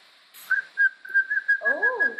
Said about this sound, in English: It took a whistle.